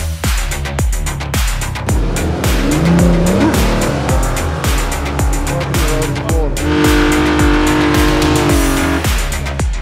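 Car launching up a steep mountain climb in a driving video game, a series of revving engine bursts with sharp tire squeals, loud and continuous with no talking.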